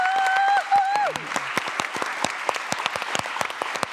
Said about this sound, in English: Can we give them a big applause?